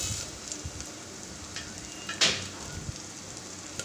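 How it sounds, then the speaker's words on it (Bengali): Chopped onions frying in oil inside a pressure cooker, a soft, steady sizzle running throughout with one brief louder crackle near the middle. "তো আমি এখানে তেল দিয়ে দিলাম, দিচ্ছি পেঁয়াজ কুচি"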